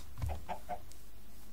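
Minecraft chickens cluck in a short burst of three or four soft clucks near the start, then quiet background remains.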